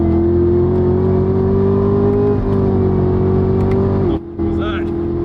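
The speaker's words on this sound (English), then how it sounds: "when you're flat out, you're still in red line when you shift into the next gear" Loud, sustained engine drone from a 2020 Chevy Camaro ZL1 1LE held near redline on track, steady tone with a brief dip near the end as it shifts gears, then picking straight back up.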